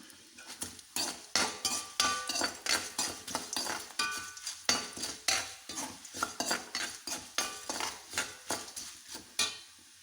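Dried red chillies are stirred in hot sesame oil with mustard seeds and urad dal for a chutney tempering, a spoon scraping the pan in a steady, rhythmic back-and-forth over a light sizzle, close and unaccompanied by speech.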